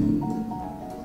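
A Mercedes-Benz EQE SUV 2024 electric SUV plays its futuristic unlock chime outside the car: a brief, soft, sustained tonal swell with faint layered harmonics, heard alone.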